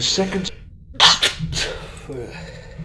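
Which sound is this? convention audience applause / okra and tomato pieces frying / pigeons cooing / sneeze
sneeze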